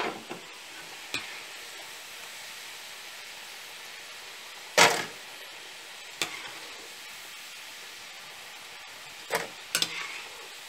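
French fries flash frying in hot oil as part of cooking a Peruvian beef dish, a soft steady sizzle under a few sharp clatters and bursts of louder crackling, with no talk.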